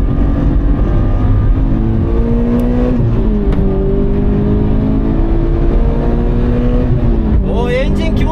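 A Toyota 86 GRMN sports car engine revs and accelerates hard up through the gears at the Magarigawa circuit, a loud rising drone with a shift dip, a voice speaking briefly underneath.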